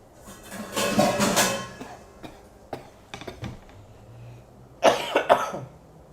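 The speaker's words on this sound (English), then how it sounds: "Nasty cough today." Two bursts of harsh, phlegmy coughing, close by, separated by a few seconds of quieter rustling and small noises.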